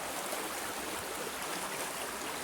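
A river running high past a set of stepping stones, with a steady, broadband rush of flowing water that stays even and close throughout, no voices.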